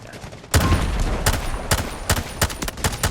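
Sharp bursts of gunfire from a rifle in the mobile shooter Delta Force Mobile, a loud opening volley followed by short clustered shots in irregular bursts, close and punchy with no talk over them.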